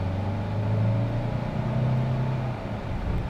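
2024 Hyundai Santa Fe Hybrid Limited accelerating under moderate throttle, a steady low engine and road hum inside the cabin with a gently rising drone, continuous and without voices.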